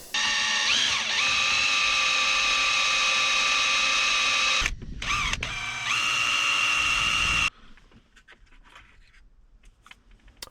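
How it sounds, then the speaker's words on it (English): A power drill with a 1/4-inch bit bores through a plastic dash bezel on a 5th-gen Toyota 4Runner, a loud high whine running steadily, briefly stopping and restarting, then cutting off to quiet clicks and handling noise. "let's drill that out now with our 1/4" drill bit"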